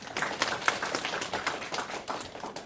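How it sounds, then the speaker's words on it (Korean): A crowd applauding, dense overlapping claps spread evenly across the whole stretch, moderately loud with no talking. "우리 수험생들 뒤에서 뒷바라지 하신 부모님들에게 또 박수 한번."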